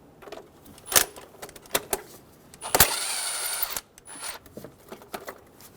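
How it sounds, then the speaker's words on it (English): A 10mm socket loosens the throttle body clamp on a 2.7L four-cylinder 2005-2015 Toyota Tacoma, with sharp ratchet clicks and a sustained whirring burst, close and fairly quiet. "loosen the clamp on the throttle body."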